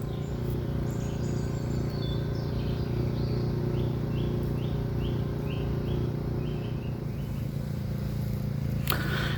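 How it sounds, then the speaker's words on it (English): Songbirds sing in woodland on a late March evening, repeated short clear phrases at moderate distance over a steady low background hum, with no talk. "Nice to hear the bird song in this late evening as we await the first moth."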